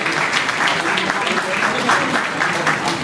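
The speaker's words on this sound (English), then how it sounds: "Big round of applause." Steady audience applause fills an award ceremony for chefs at an all-India culinary awards event, continuous and fairly loud across the whole stretch, with a faint voice underneath.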